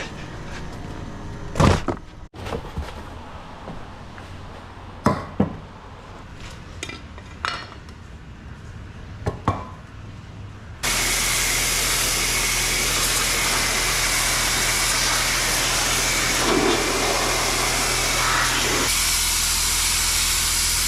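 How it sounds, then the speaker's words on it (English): A pressure washer spraying an oil-covered car transmission starts after a stretch of scattered clanks and knocks, then holds a loud, steady hissing roar right up close until the end. "I gotta go try to power wash it somewhere because it's literally covered in oil."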